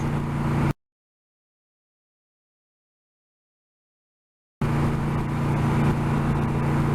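Steady broadband wind rush and low engine drone from a motorcycle at speed on the interstate, loud and constant, dropping out to silence for several seconds midway before resuming.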